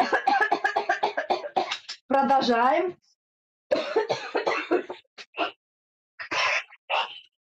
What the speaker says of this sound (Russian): Поэтому откашливаемся, сплевываем обязательно